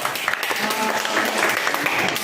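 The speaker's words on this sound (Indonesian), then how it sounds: "tepuk tangan untuk" Classroom applause in an Indonesian arts and culture lesson, a brief burst of students clapping together at close range, busy and bright, with voices mixed in.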